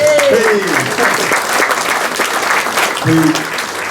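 An audience at a London blues gig applauds, producing a dense, steady wash of clapping with a few voices and brief tones running through it.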